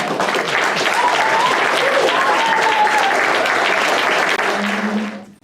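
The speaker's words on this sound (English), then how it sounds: "Give a big applause for Jan, Helge and Hege." An audience at an opening-night film screening at Scandinavian House applauds the cast, a full, even roar of clapping that holds steady before cutting off abruptly at the end, with a brief voice underneath.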